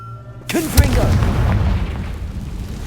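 A Confringo fire spell bursts into an explosion in Hogwarts Legacy: a sharp onset followed by a deep booming blast that rumbles and slowly fades over a couple of seconds, with a brief voice shouting just before.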